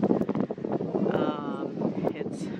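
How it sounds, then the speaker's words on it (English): Strong wind blowing outdoors on a cool day after heavy morning rain, a steady broadband rush and buffeting against the microphone that fills the whole stretch, with no voice over it. "It's really windy."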